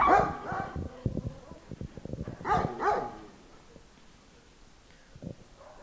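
Dogs bark in a Córdoba neighborhood, a cluster of sharp barks near the start and a double bark around the middle, fairly close, with quieter yips and background noise between.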